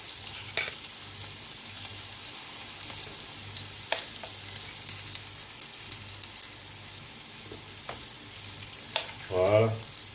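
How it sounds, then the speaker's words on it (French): Sole fillets cook gently in a pan with a soft, steady low sizzle that runs quietly throughout, broken by a few faint clicks and a brief louder scrape near the end. "Et ça va cuire tout doucement."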